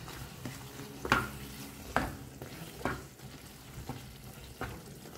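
Mutton curry masala with coriander powder and salt is stirred and mixed in a pan, making a low steady frying sizzle broken by several distinct scraping strokes of a spoon, close by, with no talking.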